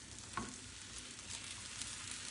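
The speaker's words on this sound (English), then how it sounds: "You hear the sizzle." Food frying in a pan gives off a soft, steady sizzle, with a brief scrape or clink near the start, all fairly quiet and with no voices over it.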